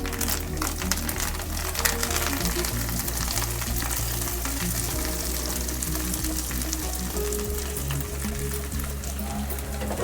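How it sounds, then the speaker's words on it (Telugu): Chopped coriander leaves frying in a little oil in a pan for a pickle, giving a steady, close sizzle with occasional stirring scrapes throughout, no voices. "ఇందులో కొద్దిగా ఆయిల్ వేసి మనం కడిగి కట్ చేసుకున్న కొత్తిమీర ఇందులో వేయించుకున్నాం"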